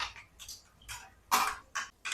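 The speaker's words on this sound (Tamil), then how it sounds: "கடுகு நல்லா வெடிச்சிருச்சு." Mustard seeds crackle and pop in hot oil while tempering a spinach (arai keerai) dish, in about six sharp, close crackling bursts with short quiet gaps between them.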